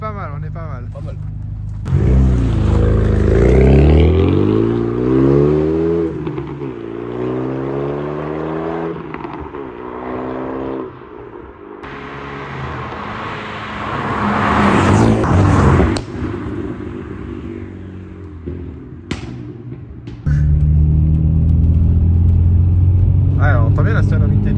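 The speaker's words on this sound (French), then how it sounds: "on entend bien la sonorité de la ligne quand même" Renault Mégane 2 RS exhaust droning on the move, loud and close, with engine pitch sweeping up and down through repeated accelerations and gear changes, and a deep rumble under speech.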